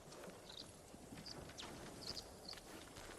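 Horse hooves clip-clop at a steady walking rhythm in the video game Ghost of Tsushima, faint and distant under a constant ambient hiss, with no talk.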